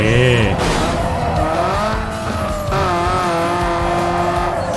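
A Nissan Silvia S15 in Need for Speed Underground 2 drives with a steady, loud engine drone and rising and falling revs, tires squealing along the way, and a voice talks faintly underneath.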